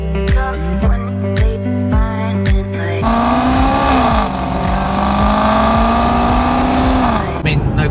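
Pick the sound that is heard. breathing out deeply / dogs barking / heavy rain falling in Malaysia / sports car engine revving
sports car engine revving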